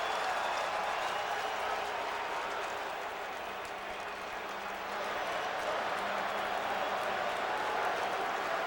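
A large stadium crowd at BC Place roars steadily during a CFL football game between the Calgary Stampeders and BC Lions, a broad, unbroken wash of cheering from start to end.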